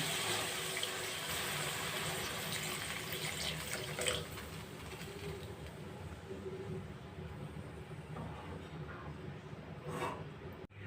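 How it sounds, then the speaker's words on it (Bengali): Hot water pours into a pan of fried spices for semolina khichuri, a steady continuous splashing rush lasting several seconds before trailing off. "এবার ছোটো বাটি দু বাটি গরম জল দিয়ে দিলাম"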